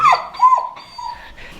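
Blue heeler Australian Cattle Dog puppy whimpering in short, high, close whines, a few separate cries over a second and a half, with no talk.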